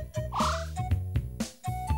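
Video game frog croaks from Ribbit King, a series of loud, close calls in a bouncy rhythm over a synthesized game soundtrack, with no talking.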